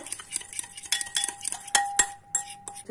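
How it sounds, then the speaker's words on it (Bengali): A spoon stirs pink salt, black pepper and roasted cumin powder into food in a bowl, giving light clinks and scrapes of metal on the bowl, close up and uneven, with one brief ringing tone. "এটা মিশিয়ে নেব।"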